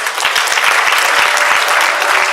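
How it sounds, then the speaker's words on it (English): Award nominees at the 2018 NAACP Freedom Fund Gala draw loud, dense applause from a large banquet crowd, a continuous roar of many hands clapping close by without a break. "let's give them a round of applause"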